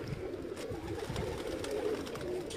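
Pigeons coo softly and repeatedly on a breeder's rooftop loft, a low rolling murmur of several birds layered together over faint background noise.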